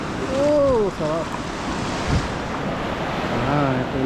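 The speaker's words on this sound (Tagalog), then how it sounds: "Ito yung dagat dito. Maalon ng dagat dito." Rough sea waves surge and wash at Qiding Beach in Zhunan, Taiwan, a steady roar mixed with gusty wind buffeting the microphone, while voices briefly murmur near the start and end.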